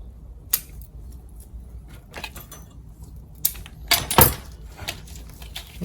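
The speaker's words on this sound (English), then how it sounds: "I'm just cutting away in there in the hope that I will be able to create pads between each level" Shears snip through Cryptomeria nursery plants being cut back for bonsai, with a few sharp, close clicks and rustles spaced irregularly over quiet.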